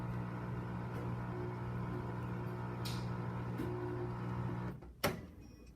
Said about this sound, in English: the video is gonna be over when the laundry machine is done